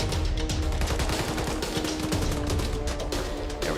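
M4 rifle fire in Arma 3, the video game, with dense sustained shooting, loud and continuous throughout, as in a firefight at a barricade.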